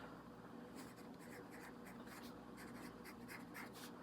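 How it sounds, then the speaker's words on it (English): Pen or pencil writing by hand on paper while sketching, a series of soft close scratching strokes in irregular bursts over a steady low room hiss, fairly faint. "I'm just gonna write"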